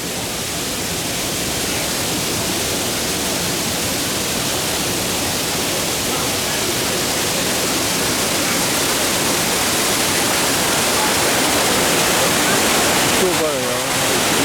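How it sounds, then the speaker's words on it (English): Fuller Falls waterfall in Ghana pours down with a loud, continuous broadband roar of rushing water, steady throughout and close by, with a brief handling rustle near the end. "the waterfalls is coming down"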